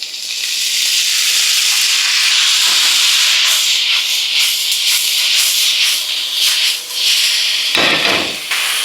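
Napa cabbage sizzles steadily in a hot pan as fish sauce seasoning goes in, a loud continuous hiss with scraping and stirring noises throughout and a brief louder splash near the end.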